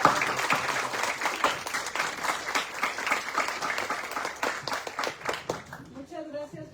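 Audience applause at the close of a lecture on strategies to eradicate poverty in Mexico, a steady wash of many clapping hands that holds for several seconds, then thins out as a voice begins near the end.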